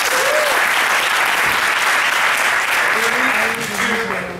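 A large conference audience applauds a speaker with loud, dense, continuous clapping that holds steady, then eases slightly toward the end while a voice briefly rises beneath it.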